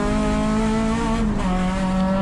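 An Acura RSX race car at Sonoma Raceway comes on the throttle, its engine droning loud and close with a steady harmonic tone that dips briefly and settles into a lower pitch, with a faint tire squeal.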